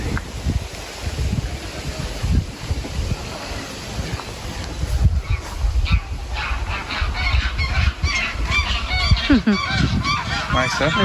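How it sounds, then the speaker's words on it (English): Waterfowl calling on a lake near a castle in the Kent village of Chilham, a few honking calls rising near the end over steady wind and rustling outdoor ambience. "The ducks."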